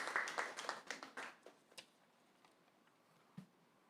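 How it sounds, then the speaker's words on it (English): Small audience at a health research day applauding a presenter, a handful of scattered claps near the start that thin out and fade within about two seconds, leaving near silence with one last stray clap. "can we give Ms. West another round of applause?"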